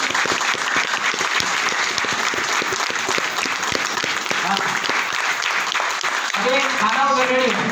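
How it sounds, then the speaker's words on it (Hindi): Audience at a hotel seminar in Surat claps vigorously, a dense sustained rattle of many hands, loud and steady throughout, with a voice emerging near the end. "जोरदार तालियां बजाओ आप लोग।"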